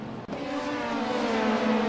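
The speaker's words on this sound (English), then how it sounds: "as the LMP2s take the start" LMP2 race cars take the start at Sebring, a loud, sustained engine roar with a steady droning pitch that builds slightly as the field accelerates, without commentary over it.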